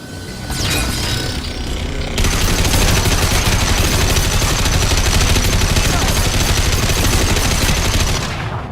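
Sustained rapid gunfire from a firefight in Mass Effect 2, loud and dense, with bursts overlapping almost continuously for several seconds before cutting off.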